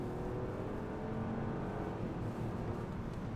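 A 2024 Chevrolet Trailblazer RS compact SUV cruises along the road, with a steady, faint hum of engine and tyres and no pauses or talk.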